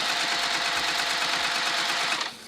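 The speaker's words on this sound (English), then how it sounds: "Back stitch a few times there." A sewing machine backstitches a fabric bag, running in a fast, even stitching buzz, close and fairly loud, before stopping abruptly near the end.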